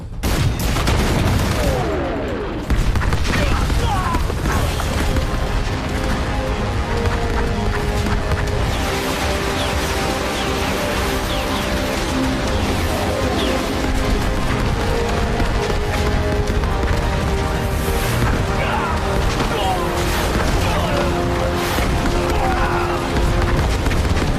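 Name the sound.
artillery barrage and gunfire in a war film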